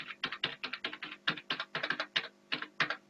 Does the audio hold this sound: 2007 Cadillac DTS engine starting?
no